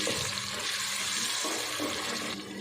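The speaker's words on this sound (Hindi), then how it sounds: "थोड़ा सा पानी मैंने डाल दिया।" Water is poured into a cooking pot of tomato for a potato and masoor lentil pulao, giving a continuous splashing, gushing flow that rises and then tapers off near the end.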